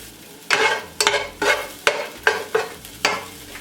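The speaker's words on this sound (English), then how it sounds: "I'm gonna go ahead and add my garlic and my onions. Stir that up a bit." Garlic and onions being stirred in a frying pan: about six distinct scraping stir strokes in a steady rhythm over a soft sizzle, close and clear with no talking.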